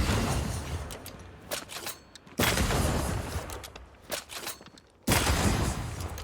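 Repeated gunfire in the video game Banishers: Ghosts of New Eden, with dense bursts of shots and echoing blasts that cut off and resume in loud volleys.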